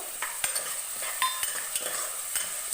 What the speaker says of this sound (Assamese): এতিয়া পিয়াজ আদা নহৰু পেষ্টখিনি দি দিব কাজু কিশমিশখিনি দি দিব